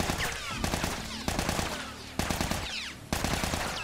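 Rapid gunfire from The Last of Us video game, bursts of loud close shots repeating in quick clusters across the clip with dense crackling between them.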